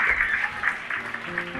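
Audience clapping in a hall during a talk, a brief burst of applause that thins out quickly while a voice starts to come through near the end.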